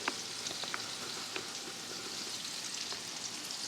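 Onions and meatballs frying in a pan, a steady dense sizzle with scattered crackling pops throughout, close and continuous with no talking.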